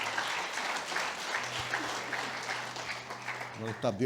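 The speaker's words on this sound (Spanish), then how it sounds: "Dale un aplauso al Señor" A church congregation applauds during a Sunday morning worship service, steady broadband clapping filling the room for about four seconds, with a voice briefly breaking through near the end.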